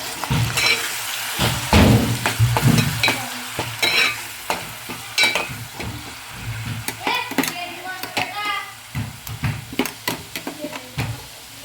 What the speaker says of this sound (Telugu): ఇది కొంచెం గోల్డెన్ బ్రౌన్ కలర్ వచ్చే వరకు ఫ్రై చేసుకున్నాం ఈ పేస్ట్ని.